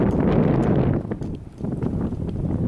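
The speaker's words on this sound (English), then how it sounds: "Wind's been blowing pretty bad today." Strong gusts of a desert wind storm roar and buffet the microphone, loud and continuous with swelling and easing surges, trees bending and shaking nearby.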